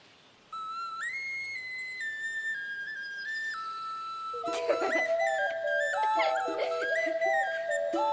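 Carved wooden toy whistles are blown in a lively, shifting series of clear pitched tones, a single whistle first, then several overlapping and warbling together, close and fairly quiet.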